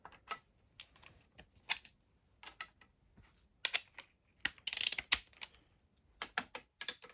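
Bolts being loosened on a Yamaha YZ450F engine during a rebuild: a run of sharp ratchet clicks and clatters close by, coming in short irregular bursts with quiet gaps and no talk.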